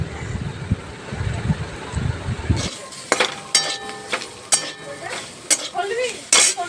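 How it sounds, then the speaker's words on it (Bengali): Soya chunks fry in a little white oil with salt in a pan, a low rumble giving way to sharp metallic clatters of a spatula stirring against the pan over a faint sizzle, close by. "তার মধ্যে সয়াবিন দিয়ে ভেজে নিচ্ছে সামান্য নুন দিয়ে।"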